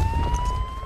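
A steady electronic siren wail from Siren Head in Minecraft, a high sustained tone held continuously over a rumbling low background.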